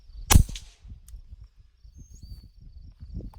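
A single suppressed .22 gunshot through an OSS suppressor, a short sharp crack near the start that fades quickly, followed by quiet outdoor background with faint rustling.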